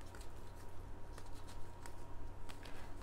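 Cards from a Viking-themed board game being handled, soft papery rustles and light flicks over a steady low hum, faint and close.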